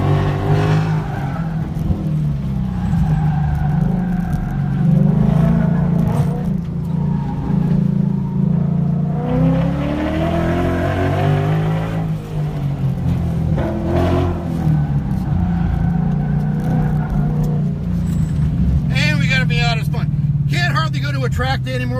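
A Mazda Miata drift car at a night drift event at Lanier Speedway, its engine droning and revving steadily nearby, rising and falling in pitch, with people talking over it.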